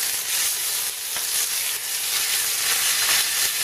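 Ostrich steaks coated in spices sear in a hot pan, giving a steady, loud, close sizzle with fine crackling throughout and no voices.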